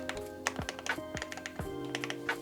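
Typing on a DrunkDeer A75 keyboard with magnetic switches: a quick, uneven run of close, crisp key clicks and thocks, about a dozen strokes, with no one talking.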